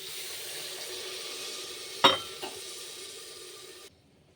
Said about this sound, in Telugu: ఇప్పుడైతే మనం కొంచెం వాటర్ యాడ్ చేసుకుందాం